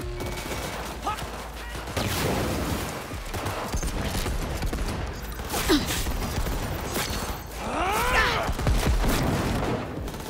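Gunfire from the player's guns in the video game Cyberpunk 2077 bursts in rapid volleys, loud and close, mixed with mechanical clanks and a few whistling tones, and no voices cut through.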